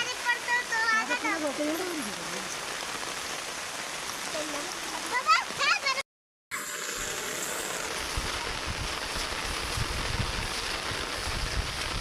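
Heavy rain pours across open farmland amid rice paddies, a dense, steady wash of water noise. Someone talks over it at first, and the downpour continues alone after a brief silent cut.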